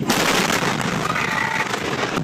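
A fertilizer plant in West Texas blowing up after a fire, heard as a loud, sustained roar and rumble that fills the whole clip without a break.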